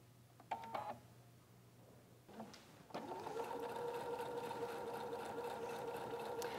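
A sewing machine stitches quilt triangles. A few short clicks and whirs come first, then the motor starts up and runs in a steady, close, humming whir until the end.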